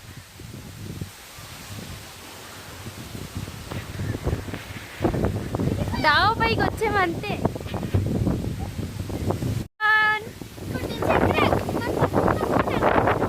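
Strong storm wind buffets a rooftop terrace in a village, roaring and gusting steadily throughout while people talk over it.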